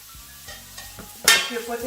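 Cabbage with adobo sizzles and is stirred in a pan, soft scraping strokes over a light fry hiss that jumps to a louder sizzle partway through.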